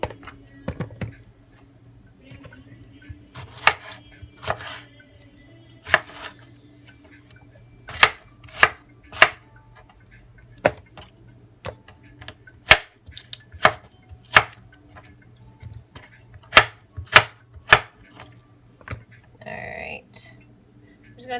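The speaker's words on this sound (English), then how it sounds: "I'm just going to chop what needs to be chopped so that way it can go in the blender" Tomatoes for soup are chopped with a knife on a board in a string of sharp, close knocks, sparse at first and then coming in a steady rhythm, with a low hum and brief rustling underneath.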